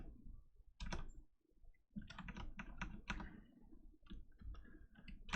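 Close, rapid computer keyboard typing of a keyword search, uneven bursts of key clicks with brief pauses between them.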